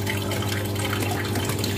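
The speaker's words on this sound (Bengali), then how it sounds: "জলগুলি ভরছি," Water running steadily from a tap while containers are filled, a continuous close rushing flow with no talk over it.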